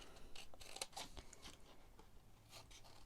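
Scissors snip through paper while trimming pieces for a handmade notecard holder box, giving several quick, crisp cuts close by that are fairly faint against a quiet room.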